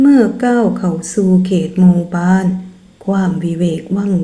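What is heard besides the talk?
None of the usual background noises is heard.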